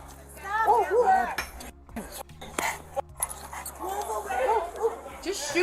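Dog barking and whimpering in a video game as it attacks a bystander, repeated yelps mixed with clinking game sounds, heard under near-constant talk.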